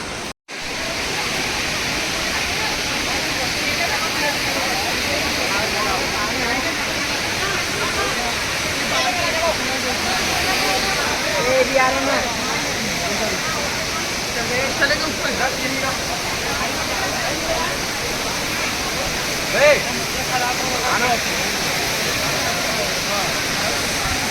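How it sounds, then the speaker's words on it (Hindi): Tirathgarh waterfall in Bastar, two falls plunging side by side, produces a constant, dense roar of falling water that holds steady throughout at a loud, close level. "दो ठो वाटरफॉल गिरा था भाई, देख सका था एक साथ"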